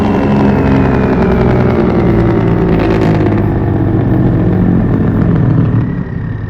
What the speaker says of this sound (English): I'm gonna let you listen to the Jake brake.